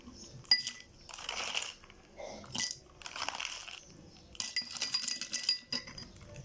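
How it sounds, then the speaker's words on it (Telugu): Ice pieces drop into a glass of lemon juice and salt, producing several separate bursts of clinking and rattling, each lasting about a second, close and fairly crisp. "ఐస్ ముక్కలు వేసేసుకున్నామండి."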